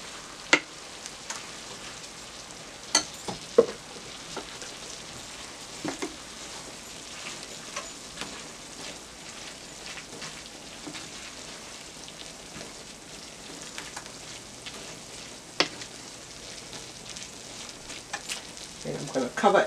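Onions and a pepper mixture fry in a pan for Liberian fried cabbage, a steady close sizzle with occasional stirring clicks and scrapes, faint and continuous throughout.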